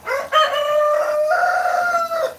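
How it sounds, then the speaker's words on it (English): A rooster crows loudly and close by, one long drawn-out cock-a-doodle-doo with a rising then sustained call. "My roosters are so rude."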